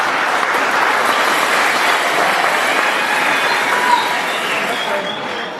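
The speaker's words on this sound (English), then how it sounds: "So I think a big clap for our host." An audience at the closing and awards ceremony of a 2025 school science fair in Lusaka gives sustained, even applause, a dense wash of clapping that holds steady and then tapers slightly near the end.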